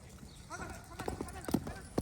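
A horse let loose without a rider trots about, its hooves clip-clopping in a loose, uneven rhythm at close range, mixed with a person's talk and exclamations.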